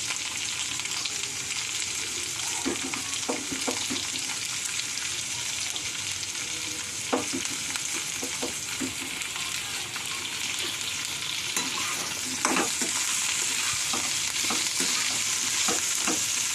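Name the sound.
spring onion bulbs frying and being stirred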